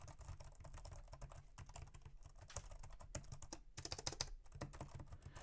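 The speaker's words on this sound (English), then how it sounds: "I especially like the feedback while typing so much" Typing on the keyboard of a Chuwi Lapbook 12.3 laptop, a quiet, non-clicky board with a fair amount of key travel; a fast, steady run of close, soft keystrokes with no talking.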